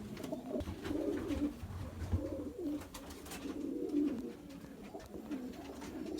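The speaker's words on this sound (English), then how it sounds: "She's a wonderful pigeon" Pigeons bred for racing coo in a loft, soft repeated throaty rolls close by, several birds overlapping in an uneven rhythm against low background noise.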